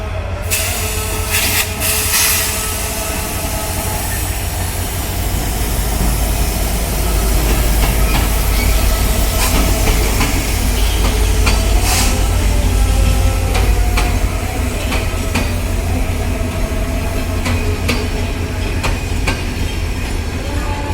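The 793 Up Panchagarh Express pulling into Parbatipur junction, a loud, steady rumble of rolling carriages with rhythmic wheel clatter and faint squeals, heard close for the full length without speech.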